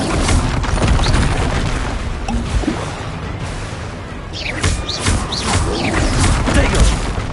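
Bombarda blasting spell explosions in the video game Hogwarts Legacy, with booming blasts and whooshing magic bursts in quick succession over loud combat noise, along with spoken spell-casting voices.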